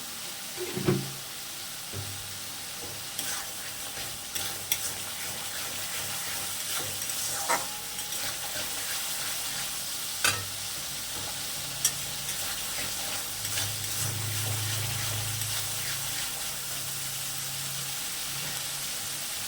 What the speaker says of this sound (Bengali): এটা আমি ততক্ষণ কষাবো যতক্ষণ এর উপর থেকে তেল না ছাড়বে